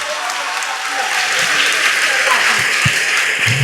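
An audience at a public event bursts into sustained applause, dense and steady throughout, mixed with a few scattered voices.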